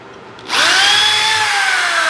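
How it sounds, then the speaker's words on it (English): A power drill spins up sharply and whines at high speed, loud and close, drilling 1/8 inch holes in a horn panel, with no talking. "I'll just drill two 1/8 inch holes"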